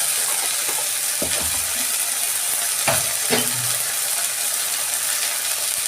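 Ginger garlic paste fries with melted tomato in a pan, giving a steady close sizzle throughout. A few scraping stirs cut through it, two of them sharper and louder near the middle.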